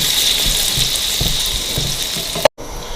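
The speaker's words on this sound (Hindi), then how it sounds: "हम पानी डाल देंगे, यानी कि यखनी जो गोश्त की जो यखनी है वो हम डाल देंगे।" Beef stock for yakhni pulao is poured into a hot cooking pot, raising a loud, continuous hiss and sizzle with watery splashing that cuts off abruptly near the end.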